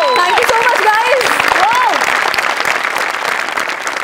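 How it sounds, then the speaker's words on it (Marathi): Audience applause on the Marathi comedy show Maharashtrachi Hasya Jatra is a loud, close, continuous clatter of clapping, with cheering voices and a whistle-like shout over it early on. "त्या दोघांसाठी सुद्धा जोरदार टाळ्या झाल्या पाहिजे"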